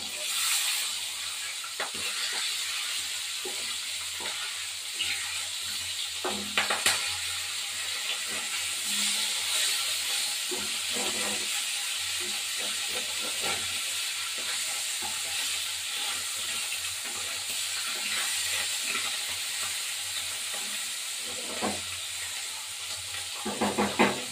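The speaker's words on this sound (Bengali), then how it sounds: "এবার মাছটা ভাজা ভাজা হবে" Fish frying in hot oil in a pan, a steady soft sizzle with scattered crackles and small pops running continuously at moderate volume.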